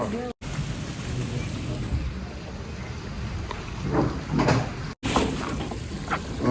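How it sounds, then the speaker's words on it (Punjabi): Heavy rain pouring down in a residential lane where the street has flooded, a dense, steady hiss with a few brief bangs and cuts, and someone talking over it. "ਵੇਖੋ ਕਿੰਨਾ ਕਿੰਨਾ ਮੀਂਹ ਪਾ ਗਿਆ"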